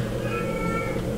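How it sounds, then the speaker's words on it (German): A cat meows in a video game, a drawn-out wavering call over a dense, loud low hum of game ambience. "Aber hier muss doch bestimmt eine Katze sein oder sowas."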